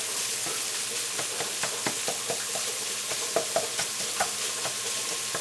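Sausage and bacon fry in a pan with a constant greasy hiss and sizzle, dotted with small pops and stirring taps, heard close with no talk over it.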